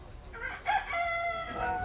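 A rooster crows once at a market in La Guerche-de-Bretagne, a strained, drawn-out call rising over quiet background noise.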